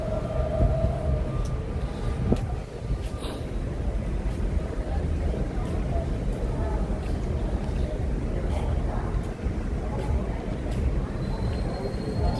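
Subway train rumbling underground beneath a Manhattan street, heard through an old ventilation grate at night: a loud, continuous low roar filling the whole stretch, with city noise around it.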